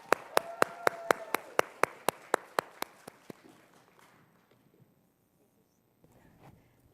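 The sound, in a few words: audience applause welcoming speaker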